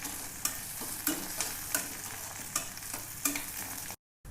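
Garlic, green chillies and ginger frying in a pan for spicy chicken lapeta, a soft continuous sizzle broken by regular scraping strokes of a spatula, close and without voices.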